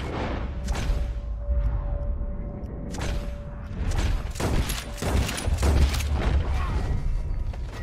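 Rapid gunfire in Red Dead Redemption 2, a string of sharp, loud shots with booming tails, clustered in bursts across the clip over a dense game soundscape.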